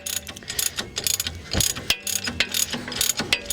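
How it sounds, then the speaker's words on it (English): A ratchet wrench tightens a bolt on a 2007 Dodge Ram 1500, with rapid, close, loud clicking strokes repeating in quick bursts. "start ratcheting this up here"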